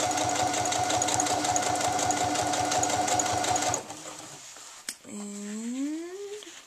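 Domestic sewing machine stitching a dress lining to the front and back bodice at a 5/8 inch seam, a steady rapid mechanical rattle for almost four seconds that stops abruptly, followed by a brief clunk and a person talking.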